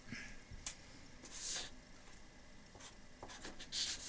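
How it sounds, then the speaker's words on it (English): Pencil writing on piano sheet music, a close, quiet scratching that starts and stops in short strokes, with no talk over it. "I might write that in on the first beat so you can see"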